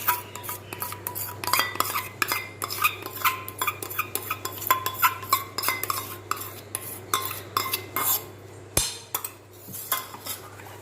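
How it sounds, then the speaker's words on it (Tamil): A ground rice paste being stirred into a dissolved mixture for halwa made from leftover rice, with a spoon clinking and scraping rhythmically against a metal vessel, close and fairly loud, with no voices. "இப்போ இதை நல்லா மிக்ஸ் பண்ணிக்கலாம்."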